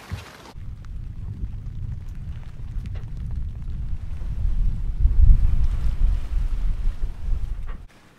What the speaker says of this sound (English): I'm gonna turn off the engine now. And we are finally sailing in this beautiful weather.